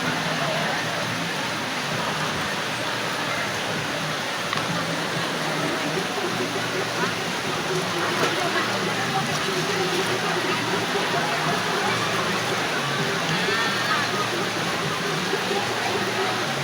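Steady rain pours down in a continuous broadband hiss with no breaks, close and even throughout, with faint voices mixed underneath.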